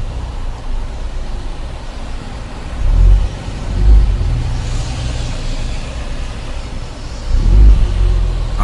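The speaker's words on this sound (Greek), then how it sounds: "Άκου πως κάνει η εξάτμιση." A VW Scirocco 1.4 twincharge with an APR tune idles with a steady exhaust rumble, then revs in short, loud bursts three times.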